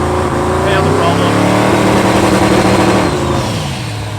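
A drag race car engine roars and revs hard at close range off the two-step at 3800 rpm, its pitch climbing steadily as it launches and accelerates away, with voices faintly underneath.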